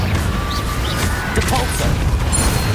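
A Confringo blasting spell explodes in Hogwarts Legacy combat, a loud sustained rumbling blast with crackling debris and booming low end filling the whole moment, dense and close.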